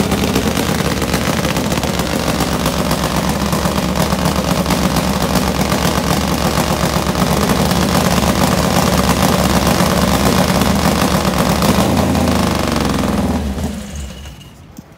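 Top Fuel nitro Harley drag bike engine at an NHRA event, a loud continuous rumbling roar that holds steady for around thirteen seconds and then cuts off abruptly.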